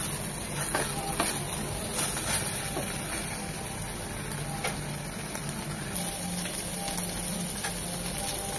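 Minced meat (keema) fries in oil in a pan, a steady dense sizzle and hiss running the whole time with faint scattered ticks and pops of stirring, close and fairly quiet, no voices.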